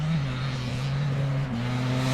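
A YZilla YZ500 motocross bike runs flat out on a track, its engine droning steadily at high revs with a slight drop in pitch as it shifts, heard continuously and fairly close.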